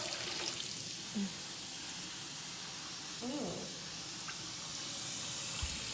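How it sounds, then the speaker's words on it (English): Water runs steadily while hair is rinsed under cold water, a soft continuous hiss that stays fairly faint, with a brief voice in the middle. "rinse it off on cold"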